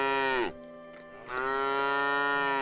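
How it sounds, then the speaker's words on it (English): Animated oxen low in two long, loud, close moos with a brief pause between them, deep and tonal. "500 yoke of oxen,"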